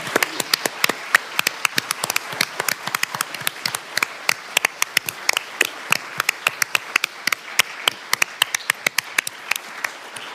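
A Senate hearing audience applauding, many hands clapping in a dense, steady crackle that continues throughout, bright and close, with no talk over it.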